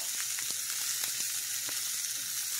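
A medium chopped onion sautés in a pan, giving a steady, close hiss of sizzling oil with faint soft ticks and pops from stirring and no talk.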